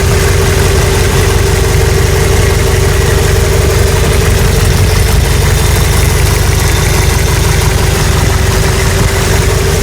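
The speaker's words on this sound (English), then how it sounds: "22R Toyota 85 pickup. It sounds good now." A 1985 Toyota pickup's 22R engine idles steadily and loudly up close, a constant low rumble with a rhythmic knock throughout.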